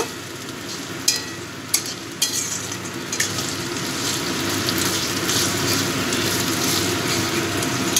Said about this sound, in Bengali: এটা দিয়ে ভালো করে কষিয়ে নেব।